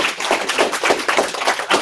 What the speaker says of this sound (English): Can we give Pablo a big round of applause